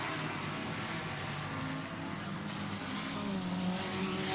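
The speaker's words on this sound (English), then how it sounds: "Trevor Crowe just lapping Bill Bryce in the 325 BMW" Sports sedan race cars, among them a BMW 325 and a Toyota Starlet, roar around the Pukekohe circuit in a 1987 race, a steady distant engine drone with a commentator talking over it.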